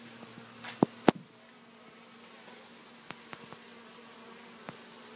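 Bees buzzing around a hive built underneath a sink cabinet, a faint steady drone with a few brief louder passes and light knocks early on, heard at a distance in a quiet room.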